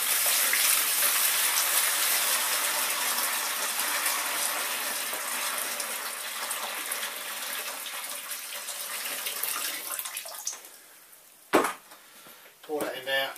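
Hot brewing water pours from a plastic bucket into a mash tun for an all-grain brew, a continuous close splashing gush that thins out toward the end before a few sharp knocks.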